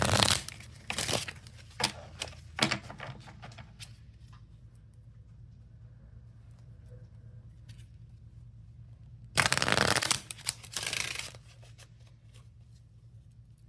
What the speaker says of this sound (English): as I'm cutting the deck